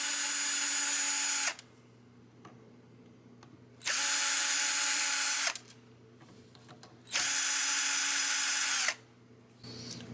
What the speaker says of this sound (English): Let's take the truss rod cover off and see if we can fix that.